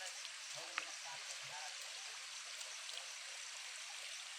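A waterfall at Halesi, Nepal, rushes in a steady, faint hiss from some distance, with a few quiet voices briefly heard low beneath it.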